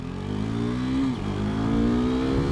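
A 2019 KTM RC 390 sport motorcycle races an Audi, its engine revving hard and rising in pitch, dropping briefly at a gear change, then climbing again, loud and close.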